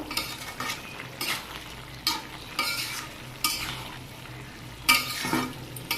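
A vegetable curry of carrot, turnip, beans and potato is stirred after tempering, with a soft steady sizzle and repeated scraping strokes of a spoon against the pot in an uneven rhythm and no talking.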